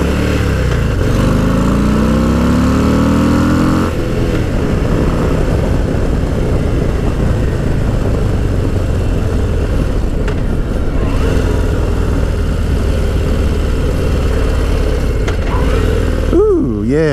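A Harley-Davidson Low Rider ST motorcycle accelerates hard on a winding road, its engine rising in pitch at first and then holding a loud, sustained roar for the rest of the ride.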